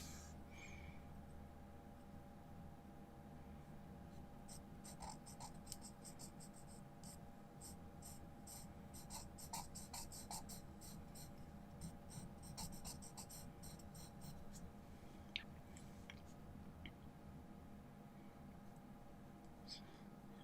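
A charcoal pencil scratches and rasps across paper while shading a drawing of a dog, in faint, close, irregular strokes that come in dense runs with short breaks.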